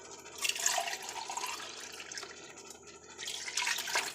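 Water runs and splashes steadily into a cooking pot for a seafood boil, a bright hissing pour that eases midway and then surges again near the end.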